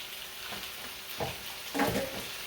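Shrimp and vegetables sizzle steadily in a hot pan, with a couple of louder bursts of frying and stirring as the food is moved around; close and moderately loud, no voices.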